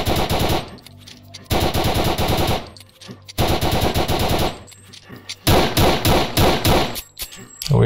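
Rapid automatic gunfire in a horror video game, loud bursts in four separate volleys with short pauses between them, heard alone without talk.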